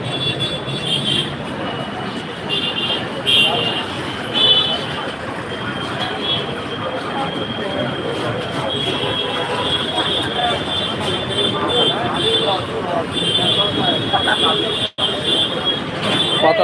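Traffic crawls through a jammed Dhaka street near railway construction work, making a dense, continuous roar of engines with high steady tones layered over it.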